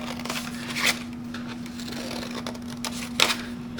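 Scissors cutting a paper plate, soft crisp snips close by, two sharper cuts standing out over a faint steady hum.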